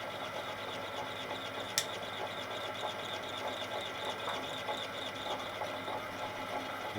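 A lathe cutting a diesel crankshaft from a Westwood lawn mower with a Lombardini engine: a steady, quiet machine whir with a faint rhythmic chatter and one brief sharp tick partway through.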